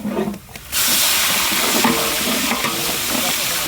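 Garlic paste dropped into browned onions with whole spices, cooked outdoors in a village beside a rice field, bursting into a loud, sustained hissing sizzle after a brief quieter moment, with stirring scrapes throughout.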